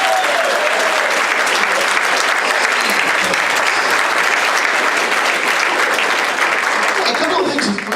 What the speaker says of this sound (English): Applaud for the VIP